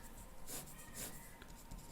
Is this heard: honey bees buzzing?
no